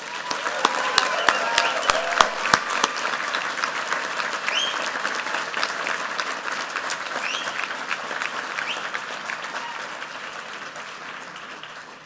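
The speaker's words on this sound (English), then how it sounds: "Please join me in a round of applause in congratulating those students on this happy occasion." Sustained applause from a large audience at a university College of Engineering commencement ceremony, with a few sharp near claps at the start, then a broad, steady clapping roar that slowly fades.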